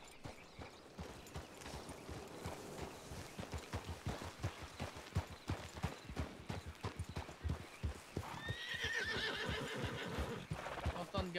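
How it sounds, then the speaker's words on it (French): A horse gallops through dense vegetation during a hunt, its rhythmic hoofbeats pounding steadily and fairly close, with whinnies breaking in near the end and a voice speaking over the hooves. "Entendre galoper."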